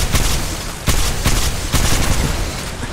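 Heavy gunfire in the Apex Legends battle royale game, with three loud, dense bursts of shots in quick succession, each separated by a brief dip before the next barrage.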